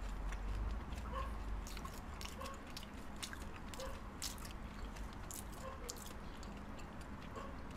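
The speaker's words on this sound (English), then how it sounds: "it makes it like crunchier when really you're just chomping down on sugar" Close chewing of a crunchy, sugar-coated Taco Bell snack, with steady rhythmic crunches and bites heard up close with no talking.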